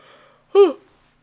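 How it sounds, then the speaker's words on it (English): A single short breathy yawn-like vocal sound, close and clear, after a moment of faint quiet. "I was not expecting that yawn."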